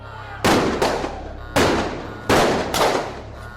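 Five sharp gunshots ring out in an irregular sequence, each a loud crack followed by a short echoing decay.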